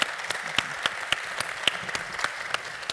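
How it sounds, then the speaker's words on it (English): An audience applauds panelists at the close of a high-performance computing industry panel at a conference, a steady patter of many hands clapping at moderate distance with no voices over it. "I would like all of you to join me in giving a round of applause to my fellow panelists"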